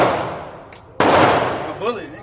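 An AR-10 rifle fires at a shooting range, one sharp, loud close report with a ringing decay, following an earlier fading blast, and a voice is heard briefly at the end.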